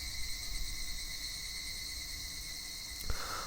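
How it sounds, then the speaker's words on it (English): Cicadas in the Higurashi visual novel drone loudly and steadily, a dense continuous insect buzz with a brief sharp burst near the end. "Only the cry of the cicadas remained, annoyingly loud"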